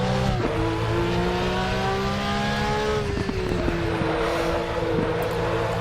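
A race car in the RaceRoom racing game at Bilster Berg drones steadily at close range, its engine tone dropping in pitch under braking and then holding a lower, steady whine, with no talking.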